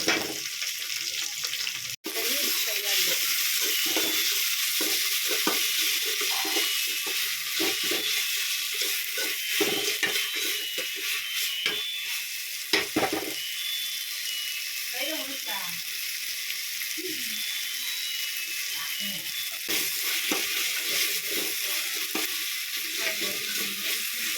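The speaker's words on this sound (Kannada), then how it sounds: "ಸ್ವಲ್ಪ ಫ್ರೈ ಆದಮೇಲೆ" Chicken dry frying in a pan with ginger-garlic paste sizzles continuously for a long stretch, with frequent scraping and stirring clatters of a utensil, a sharp knock early on and muffled speech-like sounds mixed in.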